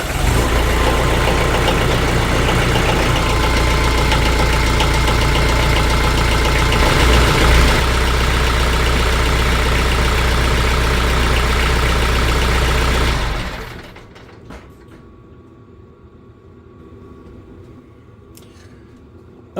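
A car engine idles after a fresh oil change, a loud, steady close-up drone for about thirteen seconds, then it abruptly drops away to a faint low background hum.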